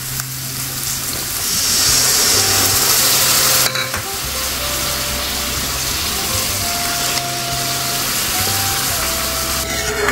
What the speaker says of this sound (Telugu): ఇప్పుడు మనం ముందుగా పెట్టుకున్న చింతపండు పులుసు వేసుకుందాం